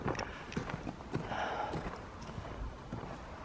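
Horse hooves clip-clop in a video game, a quiet run of irregular hoof thuds with soft snorts as the animal walks away.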